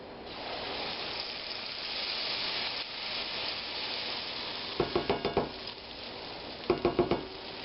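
Cornbread batter sizzling in hot oil, a steady hissing fry with two short clusters of sharp clinks from utensils against the pan.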